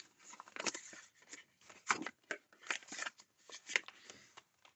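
Paper cards and envelopes are handled in an envelope budgeting binder, making quiet, close papery rustles and slides in short irregular bursts with brief pauses and no talking.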